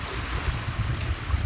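Choppy waves on the Sea of Cortez, normally a calm area, wash steadily and close by with wind noise buffeting the microphone, and no voices.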